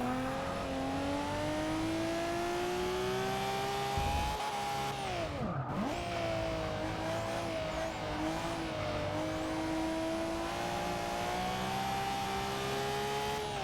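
2002 Nissan Skyline GT-R engine in Forza Motorsport 6, a loud sustained turbo straight-six drone that climbs and dips through gear changes, with a brief lift-off and blip before holding steady revs.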